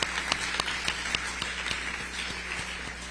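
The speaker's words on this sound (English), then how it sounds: "if you wouldn't mind just giving one more quick round of applause to the Orange County Multicultural Center." Audience at the Orange County community conference applauds, a steady patter of clapping with a few sharp individual claps standing out near the front.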